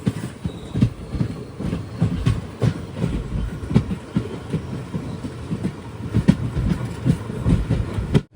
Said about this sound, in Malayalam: നമ്മളെ വന്ന വണ്ടി ഇതാ മംഗളൂരു സെൻട്രലിനെ ലക്ഷ്യമാക്കി കൊണ്ടുപോവുകയാണ്